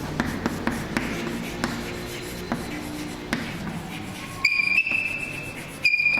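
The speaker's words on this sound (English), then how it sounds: "So let me write the floral diagram." Pen writing out a floral diagram on paper or board in a college botany lesson, a run of scratchy strokes and taps close by, followed by a brief high electronic tone.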